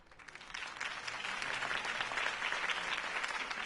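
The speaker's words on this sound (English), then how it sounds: "could have heard that applause" Steady applause from a crowd in a Batman video game, a dense wash of clapping that builds and holds at moderate volume.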